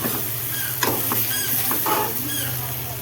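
Spiced chibhda vegetable curry is stirred in a pan over a low flame, with a continuous sizzle broken by a few scraping, clinking strokes of the spoon, close and moderately loud.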